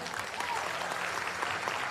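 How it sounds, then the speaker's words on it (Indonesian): Audience applause at a motivational business seminar, a steady dense wash of clapping from a crowd, moderately loud and continuous throughout. "Tepuk tangan paling meriah buat Anda."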